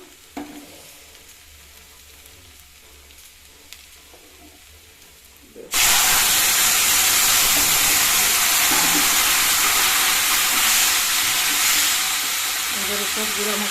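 Quiet kitchen ambience gives way abruptly to a loud, hissing sizzle as spices with ginger hit a hot pan, and the fierce frying hiss then continues steadily and close.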